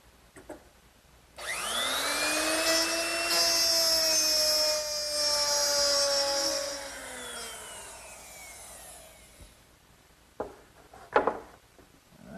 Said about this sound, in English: I'll plow out each groove using a 1/2 inch mortising bit.